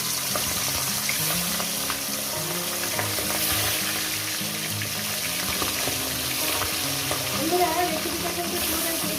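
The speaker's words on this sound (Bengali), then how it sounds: "তেলটা গরম হয়ে গেছে এবার কি করবো মাছের মাথাগুলো আমি এক এক করে দিয়ে দেবো" Fish heads frying in hot oil for a Bengali pui shak and pumpkin chorchori, a steady loud sizzle and crackle with some scraping and bubbling throughout, no one talking.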